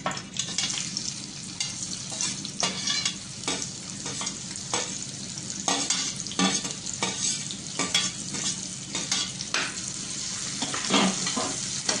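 Onions and thick curry leaves sizzle steadily in a pan for a soybean fry, with a spoon clattering and scraping through them in irregular bursts, close and fairly loud without any voices.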